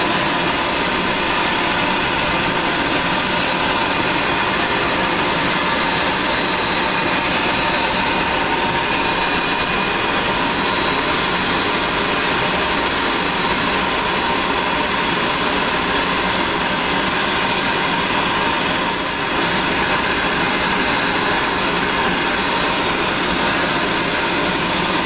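A bee vacuum runs steadily through a difficult triple hive removal, a loud, continuous broadband roar and whine holding unchanged from start to finish with no speech over it.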